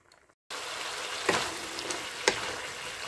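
Beef bistek cooking in a pot, a steady sizzling bubble that starts abruptly after a brief quiet moment, with a couple of louder spits and pops over the continuous simmer.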